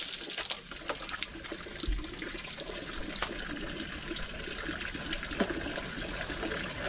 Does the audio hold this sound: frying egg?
no